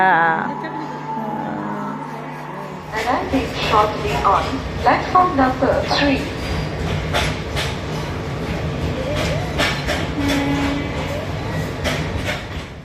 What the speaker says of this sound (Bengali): তো আমরা ট্রেনে উঠে পড়েছি।